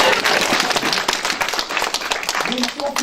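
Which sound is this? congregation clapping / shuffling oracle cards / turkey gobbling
congregation clapping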